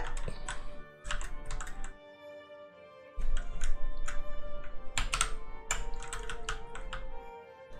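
Fast, steady key clatter from a German-layout computer keyboard, close and fairly loud, coming in two bursts with a short pause between them and no talking over it.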